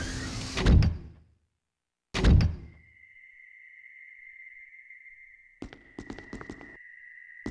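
Two heavy door thuds from a Resident Evil game, each a loud low slam that decays, followed by a steady high electronic tone with rapid clicking at the end.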